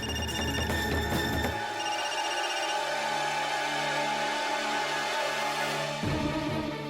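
A telephone rings in a tense domestic drama scene, a bright repeating electronic ring tone holding steady and fairly loud for several seconds with no one talking.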